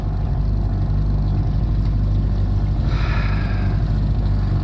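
An outboard motor drives a boat on the Pechora river, its tilt set to the lowest position. It produces a steady, loud, continuous drone that runs unbroken throughout, with no voices heard.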